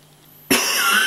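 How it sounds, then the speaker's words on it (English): A single sharp cough bursts out after near silence, close and loud, trailing off briefly. "I get one cough like that"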